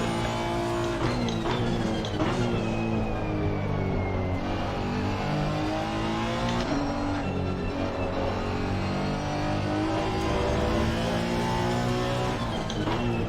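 A turbocharged 2018 Honda NSX race car in Assetto Corsa Competizione at Spa roars loudly and continuously, revving up and down through gear changes with brief dips as the throttle lifts.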